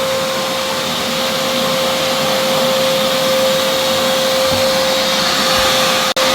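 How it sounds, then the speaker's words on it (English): A shop vacuum runs steadily and loudly, sucking up sawdust during a backyard pond build, a constant whine with a brief dropout near the end. "Eric is in there with the vacuum, just kind of vacuuming up any kind of sawdust or anything"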